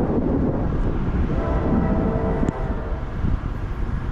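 A CSX freight train passes at full throttle with a loud, steady low rumble and roar of locomotive engines and rolling cars.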